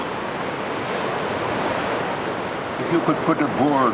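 Ocean surf rolls steadily onto the east coast of Barbados, a broad continuous wash of waves, with a voice talking over it near the end.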